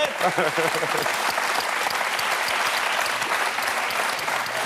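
Studio audience applauding on a French live TV talk show set, a dense steady wash of clapping held at even loudness for several seconds, with faint voices underneath.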